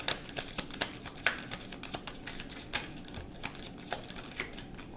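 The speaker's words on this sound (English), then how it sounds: "Let me shuffle. Gotta get a quick shuffle on me." Tarot cards are shuffled by hand in a quick run of crisp riffling taps and flutters, close and fairly quiet, with small bursts repeating irregularly for several seconds.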